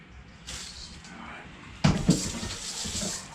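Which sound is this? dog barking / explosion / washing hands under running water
washing hands under running water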